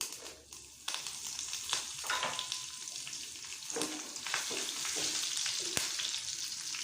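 Dried red chilies and curry leaves dropped into hot oil with mustard seeds, crackling and sizzling continuously with sharp pops and stirring scrapes, fairly quiet and close.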